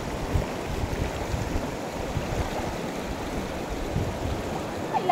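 Steady broadband rushing of a strong river current, continuous and fairly close, with no voices, at the Panipyason River in Madalag, Aklan.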